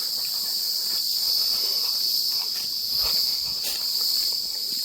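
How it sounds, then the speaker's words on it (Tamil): Insects chirp steadily in a forest, a dense high-pitched buzzing drone that runs through the whole stretch with no talking, faint rustles and light steps underneath. "ஒன்னாத்தி பூச்சி தான் பஞ்சம் இல்லை."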